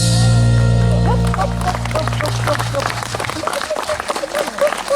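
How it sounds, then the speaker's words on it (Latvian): Concert audience applause at a jubilee concert in Ogre region, Latvia, rising as a sustained wash of clapping after the music's final sustained chord fades beneath it. "Aplausi pirmajiem diviem pārīšiem"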